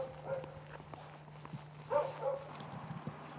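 At an early-morning cabbage field in the Korean countryside, a dog barks faintly in the distance in a few short yelps over quiet ambience with a low steady hum.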